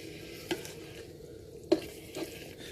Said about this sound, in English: And I will give that a good mix in.